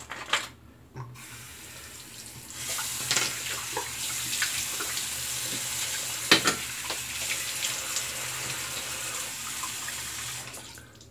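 Cold water runs from a bathroom tap into a sink after a shave with a single-edge razor, a steady hissing stream starting after a brief clatter, with splashes and small knocks as hands move through it.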